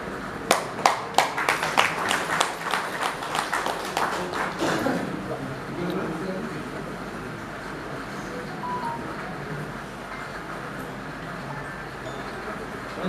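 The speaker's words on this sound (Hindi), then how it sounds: "जोरदार तालियों के साथ अभिनंदन।" Audience applauding at an Engineers Day celebration, opening with sharp loud claps that settle into a sustained round of clapping and fade toward the end, with some indistinct talk mixed in.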